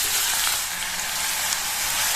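Ground onion paste sizzles and fries in hot oil for a Tamil kulambu curry, a loud, continuous, close hiss with no talking.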